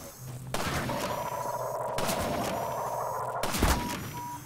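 Sniper fire in Half-Life 2 Episode One, a few sharp cracks with short echoing tails set against steady low ambient hum and a high whine, loud and fairly close.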